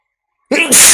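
A single sharp human sneeze, close and loud, bursting out suddenly after silence.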